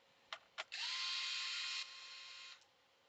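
A power screwdriver removes screws from a PS5 heat shield during a console repair. Two quick whirring bursts come first, then one steady, high-pitched motor whine of about two seconds that eases slightly before stopping, close and clear.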